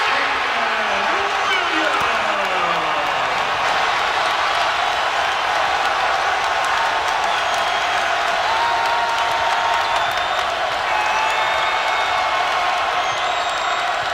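Home crowd at a West Virginia basketball game in a packed arena, roaring and cheering steadily throughout, a dense sustained wash of voices with a commentator talking over it.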